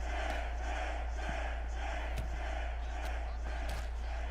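A video game arena crowd in a UFC 6 fight roars and cheers continuously behind a steady low hum, with a few sharp impact-like spikes poking through the swell.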